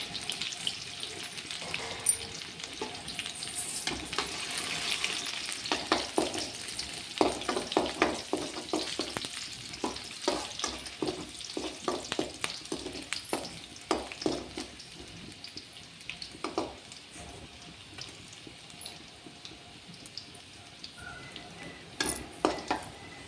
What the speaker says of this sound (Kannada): ನಾನಿಲ್ಲಿ 1 ಹಸಿಮೆಣಸು, ಸ್ವಲ್ಪ ಸಣ್ಣಗೆ ಹೆಚ್ಚಿಕೊಟ್ಟಿರುವ ಬೆಳ್ಳುಳ್ಳಿ ಹಾಕಿ ಫ್ರೈ ಮಾಡ್ಕೊತೀನಿ